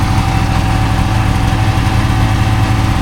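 The 583 engine of a 1998 Ski-Doo 583 Deluxe snowmobile runs close and loud with a steady, buzzing two-stroke drone that holds at a constant pitch and never rises into a rev.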